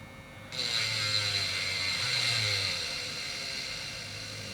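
An ARROWMAX SGS cordless engraving pen rotary tool, sounding slow and underpowered, switches on after half a second and holds a steady, close, high-pitched whine with a faint motor hum beneath, wavering slightly as it runs.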